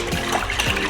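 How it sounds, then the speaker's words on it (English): Warm water is poured into a bowl to activate yeast for homemade Nebraska runza dough, giving a steady close trickle and splash that runs continuously throughout. "So let's go ahead and add our water."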